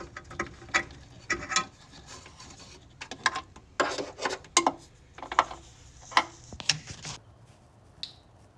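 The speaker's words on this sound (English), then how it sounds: "next step, we're going to remove the halogen bulb" Dry plastic clicks and rubbing from a halogen headlight bulb being twisted out of the housing of a 2019 Toyota 4Runner, a series of close, irregular snaps and scrapes with short quiet gaps.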